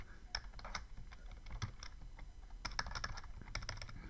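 Rapid, uneven keystrokes on a computer keyboard as code is typed, close and fairly quiet, with short bursts and brief pauses and no talking.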